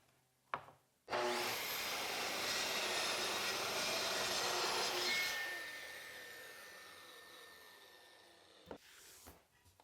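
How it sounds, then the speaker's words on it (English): A track saw slices through a plywood sheet in a woodworking shop: a sharp spin-up, several seconds of loud, steady cutting whine, then the motor winding down and a couple of light knocks. "I think the track saw is going to be the best route."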